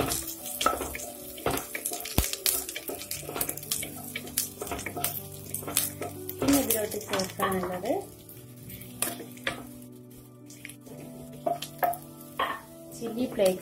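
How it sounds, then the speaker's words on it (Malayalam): Chopped garlic frying in a pan for a spicy chana mix, with busy crackling and stirring clatter, splashy water-like hiss and frequent utensil knocks over a music bed. "നമ്മുടെ ചോപ്പ്ഡ് ഗാർലിക് ഇട്ട് കൊടുക്കാം ഇതൊന്ന് ഫ്രൈ ചെയ്തെടുക്കണം"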